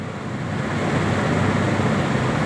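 Ingredients for chitrannam fry in oil in a pan, giving a steady, fairly loud broadband sizzle that continues close up without pause or talk.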